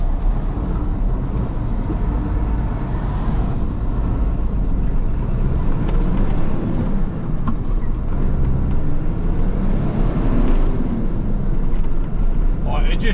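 A 16-ton dump truck with a 5-speed manual gearbox is driving, its low, steady engine and road rumble continuing throughout, mixed with wind noise and some talking inside the cab.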